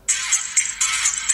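A Zanco tiny t1 miniature phone plays its ringtone, a loud, bright, repeating electronic chime in short pulsing bursts, close to the listener with no one talking.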